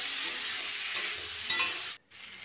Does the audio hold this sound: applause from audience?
no